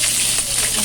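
Cooking oil spatters and sizzles in a pan while sautéing, a steady bright hiss close by with small crackling bursts throughout the brief moment.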